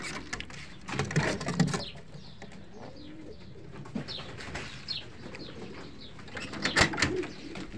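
Racer pigeons coo in soft, low bursts from nearby, with a few louder calls, some light chirps and brief rustles of movement between them, and no talking.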